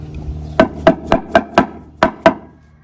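Seven sharp wooden knocks in quick, fairly even succession, close and loud, as a wooden wheel is knocked onto a quad's hub.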